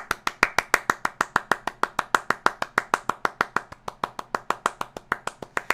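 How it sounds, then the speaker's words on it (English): Steady rhythmic clapping, a fast even series of sharp claps repeated about five times per second, close and fairly loud, with no talk over it; a round of applause for a player. "Another round of applause for Crits."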